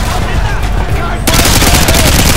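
Gunfire shot into the air in the Rio de Janeiro level of the video game Modern Warfare 2, a dense, loud stream of rapid shots that grows heavier partway through, with voices mixed under the clatter.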